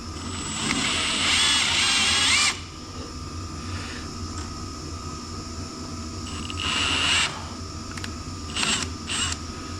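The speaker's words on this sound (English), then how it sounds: "I'm gonna run it in and out with this drill" A power drill driving a thread tap into metal, on tire machine modifications, whirs in bursts, a long run followed by a shorter one and a few quick blips, over a steady background hum.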